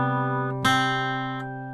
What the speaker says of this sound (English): So it sounds like this.